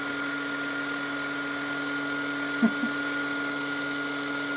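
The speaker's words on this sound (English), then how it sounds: "So here I'm getting my other heat tool" A heat tool for setting embossing powder on a mixed media Carnaval mask runs with a faint, steady electric hum and whine, with one small click partway through.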